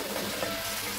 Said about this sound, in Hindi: मैं गोश्त डाल चुकी हूँ और हल्का सा इसको चलाऊँगी